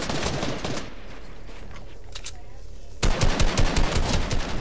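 Rapid gunfire in a Fortnite match, including a sniper rifle, rattles loudly and close in dense bursts, pauses briefly, then resumes in heavier repeated cracks.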